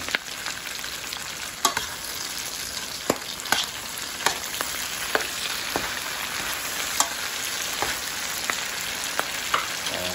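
Shrimp paste (alamang) fries in a pan with a constant close sizzle, punctuated by regular sharp clicks and scrapes of a utensil stirring it, no speech.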